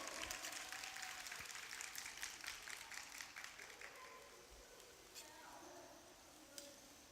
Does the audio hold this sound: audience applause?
yes